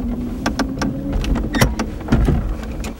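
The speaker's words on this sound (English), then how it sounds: "The only sound you hear is really the creaking of the wooden wheels." Irregular creaks and sharp clicks repeat over a steady low rumble as a San Francisco trolley's wooden wheels work along a track, with no voices.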